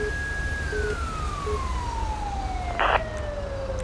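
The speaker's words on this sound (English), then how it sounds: "Those sirens over there are kind of annoying." A police siren from the game GTA 5 wails in a long, slowly descending tone at moderate distance over a low rumbling background, with a brief burst of noise near the end.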